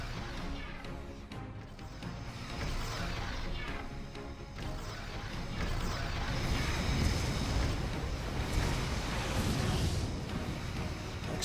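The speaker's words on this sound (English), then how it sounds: "Explosions." Explosions from the space strategy game Star Trek Armada 3, a dense, continuous roar of blasts and crashes that stays loud and thick for the whole stretch, with no break between hits.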